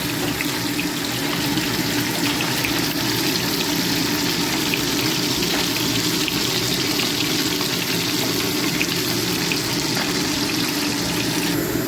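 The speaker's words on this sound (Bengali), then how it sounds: "আমি এক এক করে মাছগুলো ভেজে নিচ্ছি" Pieces of rohu fish frying in hot oil give a loud, dense, continuous hiss and sizzle that stays even and close for the whole stretch, with no voices.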